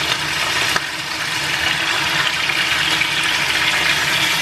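Water pours into a pan of chicken adobo made with marinade and a lot of garlic, a loud, steady rushing and splashing pour that lasts throughout.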